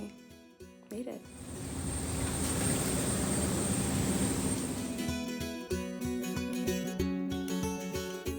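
An airliner in flight gives a steady, loud cabin roar with a high whine, holding for several seconds between choppier stretches of other sound.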